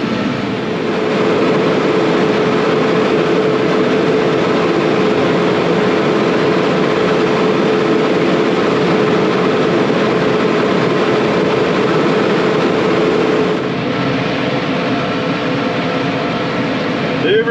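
An 8940 tractor with 954 hours runs at 2,000 RPM while clipping pasture, a loud, constant engine drone with a steady hum that holds throughout and eases slightly near the end.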